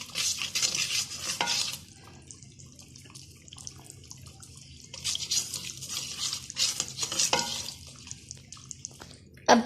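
Korma being spooned into a biryani pot (degchi) for Degi Sindhi biryani, with wet scooping and scraping bursts and clinks of a spoon against the pot, separated by quieter gaps.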